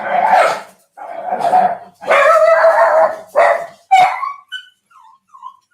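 A dog barks excitedly at another dog roaming nearby, with loud, close bursts of barking separated by short pauses, then trailing off into softer whines and yips.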